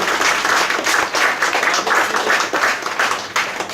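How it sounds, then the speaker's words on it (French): Audience applause at the Cep d'Or award ceremony in a restaurant in Mauritius, loud continuous clapping from a full room, pulsing slightly in waves throughout. "On peut l'applaudir encore. Bravo."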